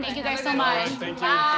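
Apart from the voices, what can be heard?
No everyday noises stand out.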